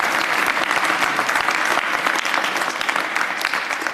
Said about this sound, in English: That's a round of applause.